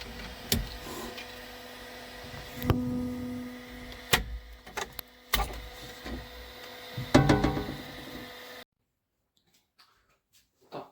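A 3D printer prints a kitchen rail mount, its motors whirring in bursts with sharp clicks and ticks. The printing runs for about eight seconds, then stops into near silence.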